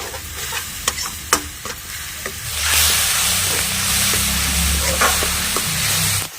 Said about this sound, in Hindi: अब मसाले को इस तरह से हम चला देते हैं। आप लोग देख रहे हैं कि हम किस तरह से मसाले को चला रहे हैं